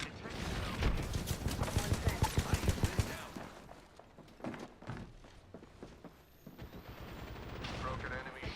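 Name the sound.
gunfire in the video game Apex Legends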